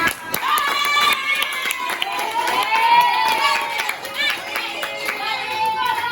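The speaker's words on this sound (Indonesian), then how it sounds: "Tepuk tangan dulu buat temannya." Classroom students clap for a classmate, a lively burst of many hands mixed with children's excited voices and chatter throughout.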